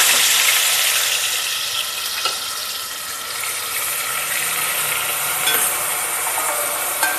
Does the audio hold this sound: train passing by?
no